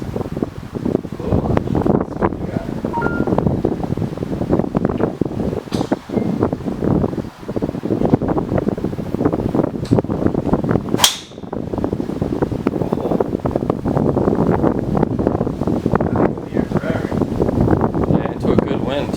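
Steady wind gusting across an open golf course during driver testing with a new M2 and Project X shaft, a broad continuous rush filling the whole stretch with one brief lull, close and loud against the microphone.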